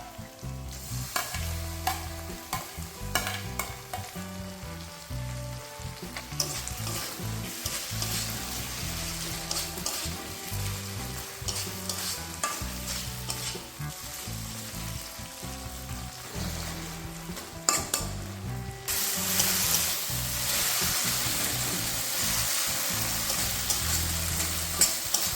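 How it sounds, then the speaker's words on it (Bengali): Chopped tomato added to a pan and stir-fried while making a potol and prawn curry: loud continuous sizzling with repeated scraping and clinking of a spatula, the frying growing louder and hissier toward the end, no speech. "এখন কিন্তু আমি তাহলে কুচিয়ে রাখা টমেটোটাকেও দিয়ে দেবো।"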